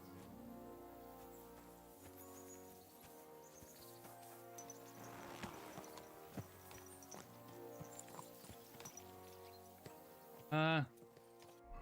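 A horse walks with soft, steady hoofbeats beneath game music in Kingdom Come: Deliverance 2, faint and somewhat buried, with a brief spoken voice near the end.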